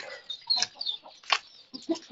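Roosters and hens kept together in a coop cluck in short, irregular bursts, close and moderately loud, with small scratchy sounds between the calls.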